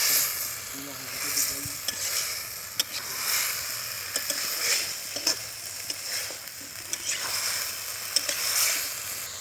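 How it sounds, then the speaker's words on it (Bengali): Potatoes and chicken sautéing in spices in a pan, a steady close sizzle with regular clacking stirs of a spatula against the metal, no talking. "দেখুন এখানে মশলাতে আপনার আলু আর মাংসটা কষানো"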